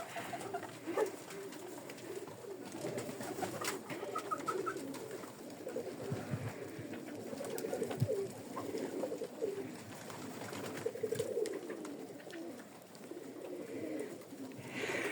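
Pigeons coo softly while feeding, repeated low throaty calls from several birds close by, with faint pecking and rustling around them.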